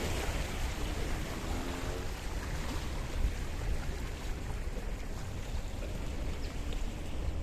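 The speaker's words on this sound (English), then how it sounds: "the Paphos harbour, the ships, the fishing boats, and the hustle and bustle" Steady outdoor water and wind noise at Paphos harbour, Cyprus, with a distant fishing boat engine rumbling low, no voices.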